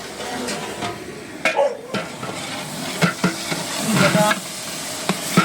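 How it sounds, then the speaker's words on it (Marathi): A vegetable tempering sizzles in hot oil in a pan for a simple home lunch. The crackling hiss is steady and close, broken by several sharp scrapes and clinks of a utensil stirring against the pan. "मी भाजी फोडणी घेत आहे छोटी भाजी आहे"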